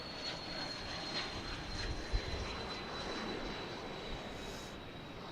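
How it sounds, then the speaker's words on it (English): A Beechcraft Premier jet at Dallas Love Field, its engine a faint, steady distant roar with a thin high whine running through it, heard from afar with no talking. "I think that's a Beechcraft Premier."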